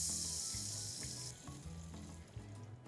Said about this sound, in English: Fry the spices for a few seconds.